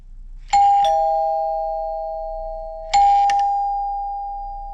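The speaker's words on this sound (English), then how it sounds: "So remember, front should go ding dong, rear should go dong." A wired doorbell chime sounds two clear ding-dong rings, several seconds apart, each two-tone strike ringing out and fading slowly in a quiet room.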